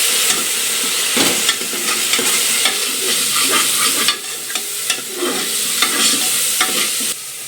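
Ginger garlic paste sautés in a hot pan for a village-style chicken curry, a loud, close, constant sizzle broken by scraping stirs of the spatula, with no speech.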